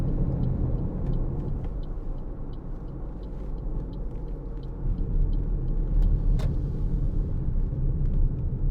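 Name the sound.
2017 Toyota RAV4 2.0 D-4D driving on road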